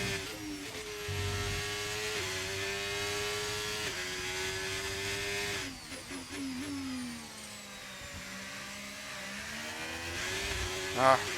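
Simulated Formula 1 car on the Bahrain circuit in the racing game F1 25, its engine holding a steady high whine with shifts and dips in pitch through gear changes and corners, loud and continuous throughout.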